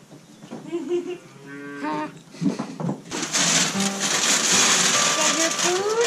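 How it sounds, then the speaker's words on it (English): Calves and young bulls moo repeatedly on a farm, loud and close, with overlapping calls from several animals and some noisy background commotion. "So they have here the baby cows, and on this side, bulls."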